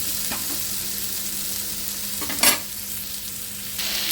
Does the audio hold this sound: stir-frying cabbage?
yes